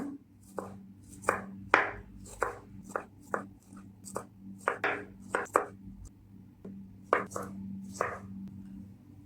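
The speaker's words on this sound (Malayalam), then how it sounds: "ആദ്യം നമുക്ക് ഉള്ളി ഒന്ന് കട്ട് ചെയ്ത് കൊടുക്കേ. വട്ടത്തിൽ കട്ട് ചെയ്താൽ മതി." Knife chopping an onion into rounds on a cutting board for a curd chilli dish: a steady run of about twenty sharp, close taps, some louder than others, with a faint low hum underneath and no talk.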